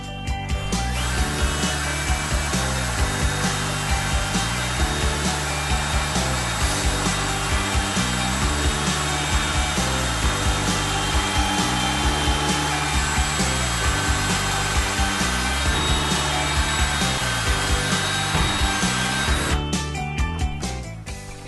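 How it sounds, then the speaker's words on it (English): A power drill bores a pilot hole into the wooden face frame of a ready-to-assemble cabinet, its motor whining loud and close with a steady rhythmic grinding for about twenty seconds before stopping abruptly. "So now you'll need to drill another pilot hole,"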